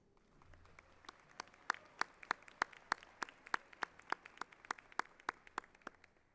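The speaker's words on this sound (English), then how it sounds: "please join me in a round of applause to the UT Pan American Brass Choir" Faint, sparse audience applause for the UT Pan American Brass Choir, only a few hands clapping in a steady, evenly spaced rhythm across a quiet room.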